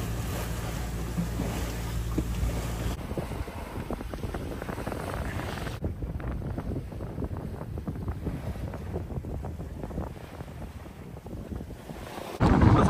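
A sailboat under way in about 10 to 12 knots of wind on flat seas off the Moroccan coast, a steady rush of wind and water with gusty microphone buffeting throughout.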